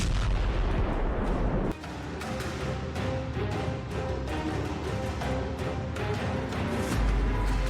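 Explosions and gunfire during a Russian attack on Kharkiv, a dense barrage of repeated sharp booms and cracks over a roaring rumble, continuous and loud throughout.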